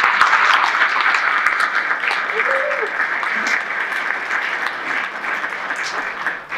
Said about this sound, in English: can you give a round of applause one more time for Randy?